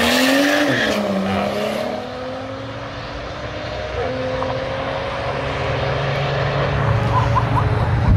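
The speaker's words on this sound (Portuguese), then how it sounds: "Começando a primeira puxada aqui da pista, nós temos BMW tração traseira contra Audi tração nas quatro." Rear-wheel-drive BMW against an all-wheel-drive Audi RS4 in a track drag race, a loud engine roar rising in pitch as the cars launch, then a sustained mid-distance drone with a second engine layered beneath.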